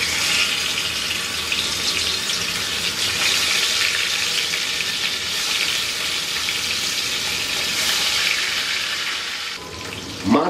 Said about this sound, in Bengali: আমি এখন চুলায় একটা কড়াইয়ে কিছু তেল ভালো মতো গরম করে এই মাছগুলা দিয়ে ভেজে নিব।